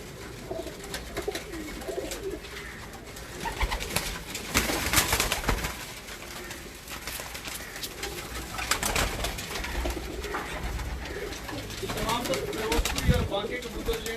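Ferozpuri pigeons in a loft coo in repeated low, throaty phrases close by, with occasional wing flutters, while someone talks over them intermittently.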